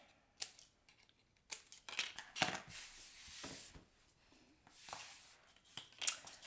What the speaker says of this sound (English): grab those scissors and just cut off those points